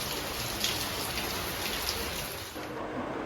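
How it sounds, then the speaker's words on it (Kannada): Heavy rain pours steadily outdoors, a dense, even hiss of drops on surfaces at moderate volume with no voices. "ಡಿನ್ನರ್ಗೆ ಹೋಗೋಣ ಅನ್ನೋಷ್ಟರೊಳಗೆ ಫುಲ್ಲು ಜೋರು ಮಳೆ ಬಂತು"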